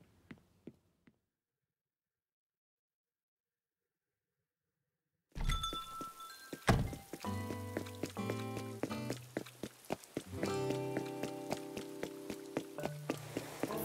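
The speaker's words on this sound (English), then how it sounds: "when you're running around in the rain, your shoes make little splashy noises" Small splashy footsteps of a character running through rain in Animal Crossing, quick repeated taps and clinks over soft rainfall, with a bright plucked game melody playing alongside after a silent start.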